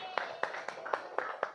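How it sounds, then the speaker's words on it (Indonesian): A small group claps for the second team at a classroom session: five or six sparse, evenly spaced claps, fairly quiet and close. "Kasih tepuk tangan untuk kelompok 2."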